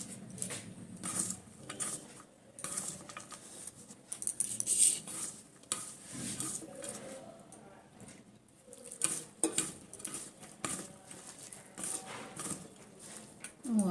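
Hand mixing of batter for drumstick flower fritters in a bowl, soft irregular squelching and patting with light clinks against the bowl, close and continuous without talking.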